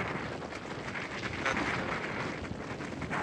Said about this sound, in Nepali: हावा निकै चलिरहेको छ गाइस